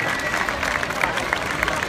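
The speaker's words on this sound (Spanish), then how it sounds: "Un fuerte aplauso para ellos." Crowd applause and cheering for giants and big-heads parade performers at a street festival finale, a dense, steady outdoor wash of clapping with a murmuring crowd throughout.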